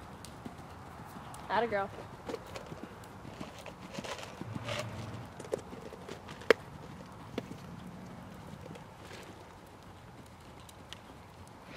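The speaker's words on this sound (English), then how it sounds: "I love this canter" A horse canters during a night riding lesson, soft rhythmic hoofbeats under a rider's short spoken encouragement, with faint thumps and creaks throughout.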